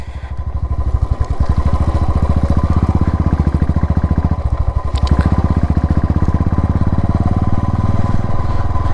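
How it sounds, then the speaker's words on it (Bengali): A motorcycle riding through mud on a mountain road, the engine thumping in a loud, rapid, steady rhythm close by, with rattling and clattering over the rough surface. "এ তো কাদা রাইডিং"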